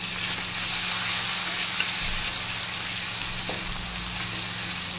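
Chopped tomato and grated ginger sizzle in a hot pan, a steady close hiss with a low background hum and occasional soft stirring movement.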